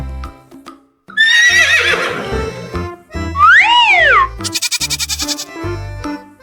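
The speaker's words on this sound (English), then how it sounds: "When a horse has a baby, it's called a foal." A farm horse gives one loud, close, wavering neigh lasting about a second, followed by separate bleating calls from other farm animals.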